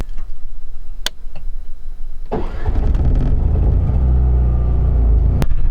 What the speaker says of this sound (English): The generator will do an auto start.